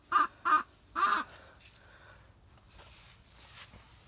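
Three loud squawks from a small free-range hen in a backyard coop, coming in quick succession close by, followed by quiet rustling and faint background noise.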